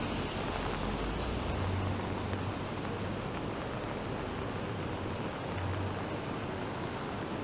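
Steady rain pours on Bay Street in downtown Toronto on an April day, a dense broadband wash of falling drops with a low city rumble underneath and no talking.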